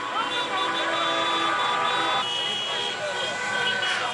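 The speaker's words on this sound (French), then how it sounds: "Ici, pas moyen d'échapper aux klaxons et autres 1, 2, 3, viva l'Algérie." Car horns honk in repeated toots and sustained blasts amid a dense street crowd in Constantine, Algeria, during a football victory celebration, with cheering voices and chants mixed throughout.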